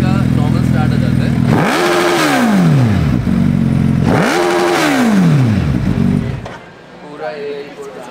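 A Suzuki Hayabusa motorcycle engine idles close by, then two sharp revs rise and fall in pitch before settling back to a quieter idle, with a voice talking over it.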